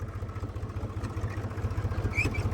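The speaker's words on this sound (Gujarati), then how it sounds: "ટ્રેક્ટરમાં લો બેટરી હતી તો આપણે અહીંયા હાથ દઈને કરી લીધું ચાલુ ટ્રેક્ટર." Tractor engine running after being hand started on a low battery, a low, rhythmic diesel chugging that is steady and moderately close, with no talking.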